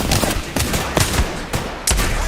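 Gunfire in a video game shooter: a rapid series of about six loud, punchy shots in quick, uneven succession, close and dominant.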